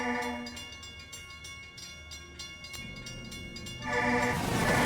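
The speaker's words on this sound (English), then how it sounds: "Clickety-clack coming down the tracks." A train rolls along the tracks with a rhythmic rumbling clatter and a sustained horn-like tone that swells louder near the end, heard at moderate distance with no talk.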